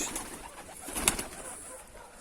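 A pigeon coos softly once or twice against a quiet background in a coop, with a faint rustle around the call.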